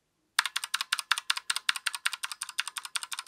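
Someone types fast on a Razer Huntsman Mini keyboard with clicky purple switches, some keys fitted with O-rings. After a brief silence come close, crisp clicking keystrokes in a steady, rapid rhythm, with no talking.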